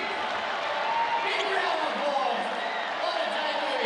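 Basketball crowd at a WNBL women's game, Perth Lynx against Southside Melbourne Flyers, gives a steady, broad wash of applause and murmuring that holds evenly throughout, with no clear gaps.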